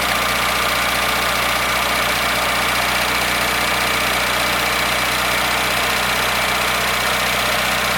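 A 1981 Datsun 210 engine idling steadily with a bad fuel pump, a loud, continuous close-up drone with a faint rough knock running throughout.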